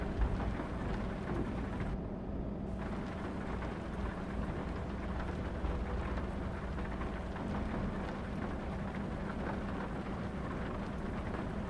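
A steady downpour in a thunderstorm in American Truck Simulator gives an unbroken wash of rain noise. Faint low thunder rumbles beneath it, with a brief dip in the hiss early on.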